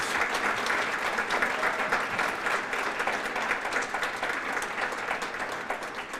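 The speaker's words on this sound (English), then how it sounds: "Let's give him another round of applause." An audience at a Central State University engineering college ceremony gives a full round of applause, thick and continuous clapping that stays loud and even throughout, with no speech over it.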